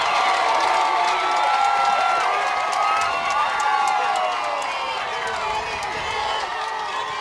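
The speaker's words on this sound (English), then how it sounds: "Dardaman getting a nice round of applause" A soccer crowd at the 2012 FHSAA 1A boys championship cheers and applauds a goalkeeper's save, a steady dense roar of clapping and shouts that stays loud throughout with voices mixed in.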